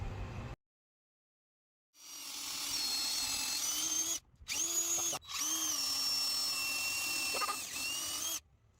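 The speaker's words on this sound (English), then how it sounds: "We are now going to drill our rope holes with a 1/2 inch drill bit." A power drill with a 1/2 inch bit bores rope holes through a wooden support piece for a tree swing, whirring close and loud in three long bursts separated by brief pauses.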